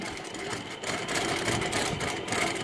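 Longarm quilting machine stitching a loose zigzag, a steady fast mechanical whir and needle chatter with slight swells, running continuously with no talking.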